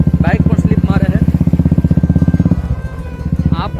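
A motorcycle putters along a slippery, muddy monsoon forest road with a loud, close, rhythmic engine thump that eases off partway, while someone talks over it.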